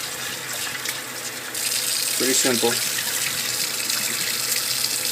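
Cold water runs from a kitchen tap into the sink, a steady broadband rush that grows louder partway through as the flow strengthens, with someone speaking briefly over it.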